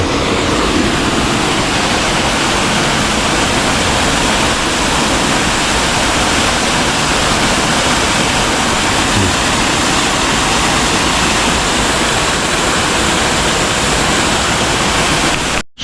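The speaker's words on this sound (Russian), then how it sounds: "Решили продвинуться еще чуть поближе к водопаду." A waterfall at Baden-Baden pours in a constant, powerful roar, close and loud, unbroken throughout with no talking.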